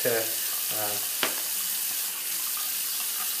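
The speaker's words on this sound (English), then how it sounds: "quickly refill my scuttle here and just warm it up a little bit more" Water runs and pours as a shaving scuttle is refilled, a close, steady splashing hiss that follows a few short words from a man.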